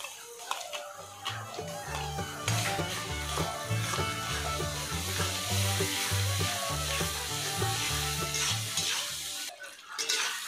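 Garlic paste frying in a pan with onions during Bengali thali cooking, a continuous close sizzle with frequent stirring clinks and scrapes, loud, fading briefly near the end.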